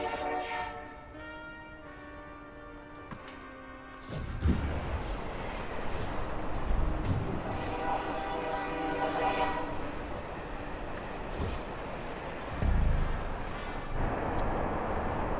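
A train runs with a steady rumble, its horn sounding in a long sustained tone at the start, then a louder, broader roar of the moving cars, with brief clanks near the end; no one speaks.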